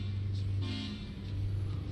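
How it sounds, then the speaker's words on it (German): Truck horn in the Euro Truck Simulator 2 driving game, a steady low honk sounding over continuous engine rumble for the full two seconds, close and fairly loud. "Wenn ich nach links drücke, habe ich da einen Hupen."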